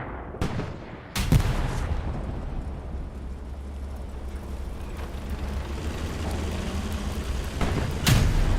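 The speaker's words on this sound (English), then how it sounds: "Have some type of long-range shots coming in." Distant long-range tank cannon fire in Hell Let Loose on the Tobruk church grounds map, heavy booms and sharp cracks rolling in at intervals with reverberant tails over a low rumbling battlefield bed, no voices.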